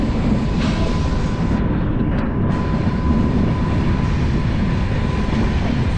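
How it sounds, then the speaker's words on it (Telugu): Another train crosses alongside the Telangana Express, a WAP-7-hauled service, as heard from inside a 3-tier AC coach: a continuous loud rumble and rattle of rolling wheels, steady throughout, with no voices. "సో ఇక్కడ మన ఏదో ట్రైన్ అయితే క్రాస్ అవుతుంది."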